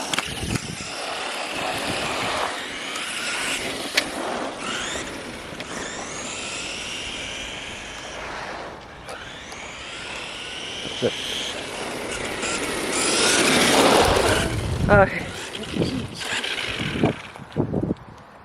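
A small RC car fitted with a new 35T electric motor whines and buzzes as it speeds back and forth, its pitch rising and falling over a steady drone, with people talking over it.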